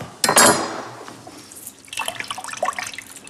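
Milk and lemon juice poured into a bowl for a rabbit marinade, a splashy burst of liquid at first, then softer dribbling and trickling that fades in and out close by.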